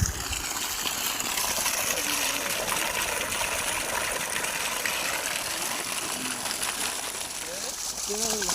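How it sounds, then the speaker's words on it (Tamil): Water gushes steadily from a pipe fed by a 2 HP, 3350-watt AC motor pump, a loud, continuous rushing splash that lasts throughout, with people talking faintly underneath. "Motor 2 HP AC motor."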